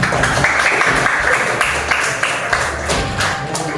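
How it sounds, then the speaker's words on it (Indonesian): Classroom applause for a student, a brief burst of clapping from a group of children, fairly close and uneven, with a few voices over it. "kita tepuk tangan ya untuk Dios."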